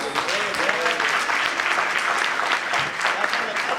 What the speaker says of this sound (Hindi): हाँ, तालियां भाई साहब।